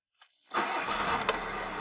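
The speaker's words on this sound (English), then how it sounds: "I close the door, I turn on the ignition and I don't have the seatbelt anywhere." A car's ignition is switched on and the engine cranks and catches within a fraction of a second, then settles into a steady close idle.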